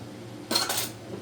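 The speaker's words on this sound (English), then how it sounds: "And Grandma now is stir frying her noodles." Noodles being stir-fried in a pan at home, with soy sauce to be added: a single short burst of scraping, clattering utensil-on-pan noise in the middle of an otherwise quiet moment, with no talking.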